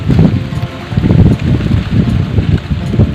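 Strong wind gusting across open rice fields during planting season, a loud, continuous rumbling buffet pressing on the microphone with low roaring surges and no let-up.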